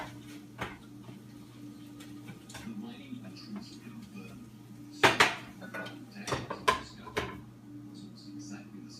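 Ground chicken and red potato chunks stirred in a pan, with a spoon scraping and clinking against the metal in scattered bursts, a cluster of sharper knocks near the middle, over a low steady hum.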